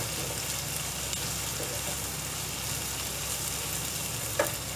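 Okra slices frying in a pan for bhindi masala, giving a steady, close, continuous sizzle with faint crackles and one brief sharper pop near the end, with no voices.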